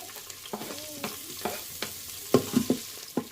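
Ginger and garlic sautéing in hot oil in a pan for a chicken and mung bean dish, a steady close sizzle broken by several sharp stirring clinks and scrapes, with no talking.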